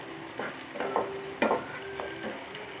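Paneer bhujia with tomato frying in a pan, with faint sizzling and several distinct stirring scrapes and clinks spaced irregularly, moderately quiet and without voices.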